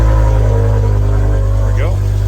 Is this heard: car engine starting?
yes